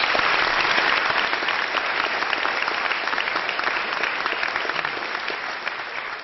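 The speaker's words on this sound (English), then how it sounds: "Please give him a warm round of applause." A conference audience gives sustained applause to a tech investor being introduced, with many hands clapping in a thick, even roar for over six seconds that eases slightly toward the end.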